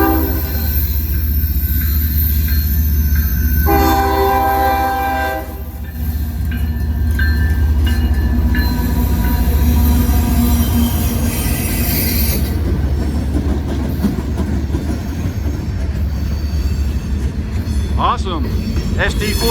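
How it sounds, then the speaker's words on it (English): A northbound grain train led by an SD40-2 locomotive, its wheels carrying severe flat spots, passes a railroad crossing at close range with a loud, sustained horn blast. A heavy rumble and clatter of wagons follows, with wheel squeal near the end and people talking nearby. "We got a northbound train coming right now."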